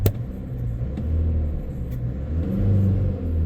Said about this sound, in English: You hear the rev of the engine.